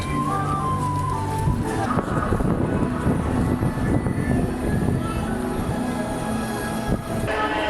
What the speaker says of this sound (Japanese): 2番線に森の上行きが到着します。